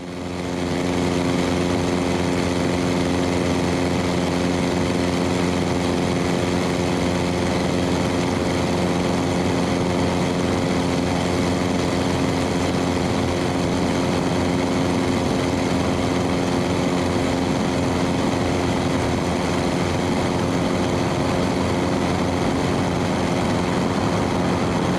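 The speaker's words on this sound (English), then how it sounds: "next pass is a full stop landing" A light aircraft's propeller engine drones steadily and loudly through a full stop landing, a constant buzzing tone with harmonic whine that barely changes from start to finish, with no voices.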